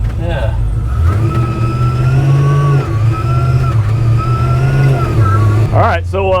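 A supercharged LS V8 swapped into a classic truck, fitted with a TVS 2300 Magnuson blower, runs loud and close with a steady, rising and settling engine drone. People talk over it.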